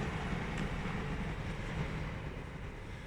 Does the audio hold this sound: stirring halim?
no